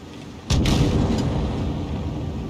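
A T28 Prototype tank fires its cannon in World of Tanks Blitz: one sudden loud, heavy boom followed by a long, low rumbling tail.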